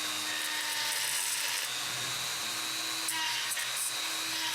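A carbide porting bit grinds an engine block in a continuous high-pitched whine, loud and close, with small shifts in pitch as the cutter loads up and eases off.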